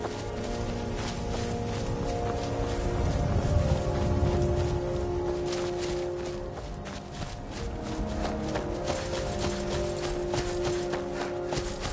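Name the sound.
horse hooves clip-clopping in video game Skyrim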